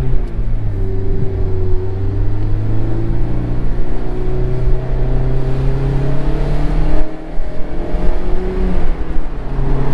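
A 2017 Mazda Miata RF accelerates hard, its engine note climbing steadily in pitch, with a brief dip at a gear change before revving up again; loud and close, with no talking.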